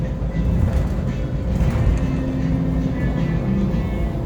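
A Las Vegas Monorail train glides along its elevated track, giving a steady, close, low rumble with a faint hum and no pauses or voices.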